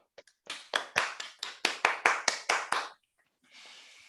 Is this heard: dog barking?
no